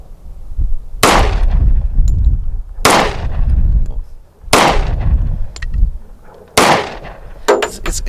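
Four loud, sharp shots from a .45 ACP 1911 pistol fired outdoors downhill, spaced about two seconds apart, each with a short echoing tail.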